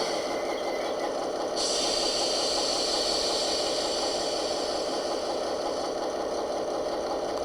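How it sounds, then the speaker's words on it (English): A model locomotive sound decoder with its manual brake engaged gives a steady mechanical engine hum with a brighter hiss layered on top, constant and moderately loud throughout. "bring in the manual brake"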